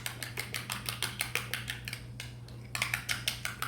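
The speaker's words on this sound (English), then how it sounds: "all I'm doing, giving this a good mix" A utensil scrapes and clinks against a bowl while chili sauce and sour cream are stirred together, making quick rhythmic ticks that pause briefly and then resume.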